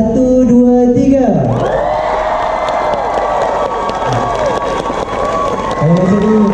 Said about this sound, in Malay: dengan bunyi sorak-sorakan tu kuat korang lah kan? Boleh dengar lagi sekali tak?